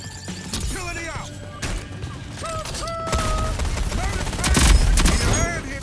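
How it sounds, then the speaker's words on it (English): Shotgun blasts and other gunfire crack in quick, loud bursts during a Rogue Company match, mixed with clanking game effects and voices talking over the action. "Shotgun to the face."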